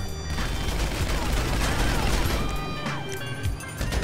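Rapid gunfire in GTA 5 Online, shot from inside a wall breach glitch, crackling in dense bursts over a steady noisy game backdrop with speech faintly underneath.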